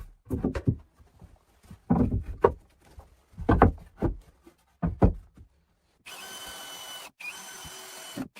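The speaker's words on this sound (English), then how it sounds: "Outside, the steady rhythm of hand tools echoes through the deep" Hand tools working wood at a log cabin in a winter forest: a run of separate knocks and scraping strokes, then a steadier, louder rasping stretch near the end, with no talk.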